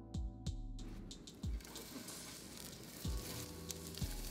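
Vegan burger patties fry in a pan with a steady, crackling sizzle, close and continuous, broken by a few brief low thumps and knocks.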